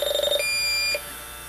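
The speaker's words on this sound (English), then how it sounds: "you'll get an audible alarm" A Yellow Jacket leak detector sounds its audible alarm as a rapid pulsing electronic beep that shifts into a steady high tone, then fades to a quieter hum, loud and close.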